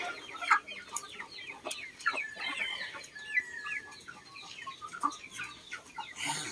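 Chickens cluck repeatedly around a farmyard after young pullets are let loose, with several birds making short, scattered calls at moderate distance and a faint crow-like call mixed in, no voices.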